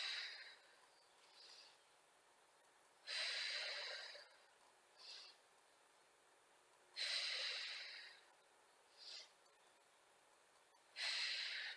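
A person breathing during a Pilates exercise, with long, loud, airy breaths alternating with shorter, softer ones in a slow, steady rhythm, close and with no talk.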